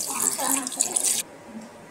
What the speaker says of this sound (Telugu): అందులో కొంచెం నీళ్ళు కలుపుకోవాలి.